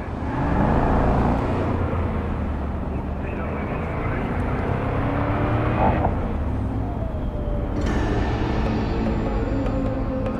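A car in the video game Cyberpunk 2077 drives on with a steady, loud engine drone that holds throughout, while voices talk over it.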